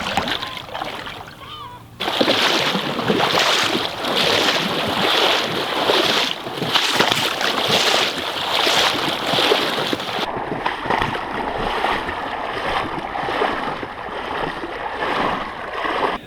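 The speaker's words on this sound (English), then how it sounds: "the boardwalk, which is only a little bit underwater at this point, has actually become part of the flowing river" Water sloshes and splashes steadily as someone wades along a boardwalk flooded by the River Thet, close and continuous over wind rumble, then the splashing gives way to flowing water and wind noise.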